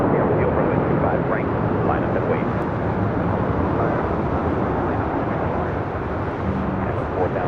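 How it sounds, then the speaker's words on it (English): A United Boeing 777-200ER jet departs from LAX on a runway, a heavy, steady, rumbling engine roar that holds loud and broad across the clip. "United 777-200ER, that flight heading to Honolulu, flight 1158, will be heading to the north side for a departure on 24 left."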